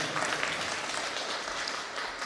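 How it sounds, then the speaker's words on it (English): Wedding guests applaud at a ceremony, a steady wash of many hands clapping at moderate distance, with no voices over it. "A big round of applause, very nicely done."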